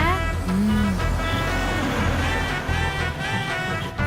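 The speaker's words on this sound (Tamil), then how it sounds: "எம்புட்டு கார்லாம் போகுது." Busy road traffic washes past in a continuous dense roar, cars streaming by nearby with a brief horn-like tone early on, while people talk over the noise.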